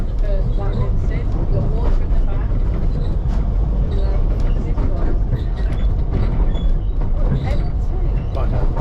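A Ffestiniog Railway narrow-gauge train runs along the track on the spiral deviation near Dduallt, a loud, steady rumble of wheels and carriage with rhythmic clatter, heard from on board with some voices mixed in.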